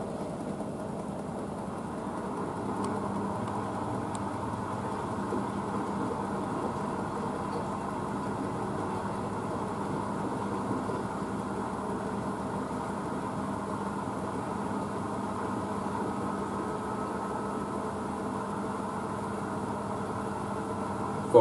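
A Blomberg WNF9448 washing machine drum spinning at 400 RPM, a steady continuous whirring hum with a slight unbalanced rumble that stays even and moderately loud throughout, with no talking.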